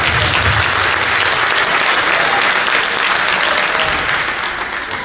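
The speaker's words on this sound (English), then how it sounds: "Give them a round of applause." Loud, dense audience applause for a youth basketball team after a 5th–7th grade league championship game, steady and sustained through the whole stretch and fading slightly at the end, with faint voices mixed in.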